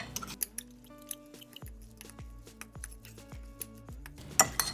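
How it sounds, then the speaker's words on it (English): Quiet clinks and scrapes of a utensil stirring chaffle batter with egg whites and xanthan gum in a bowl, with irregular light taps against the sides and an occasional sharper knock near the end. "I'm just gonna keep stirring it for a little bit longer"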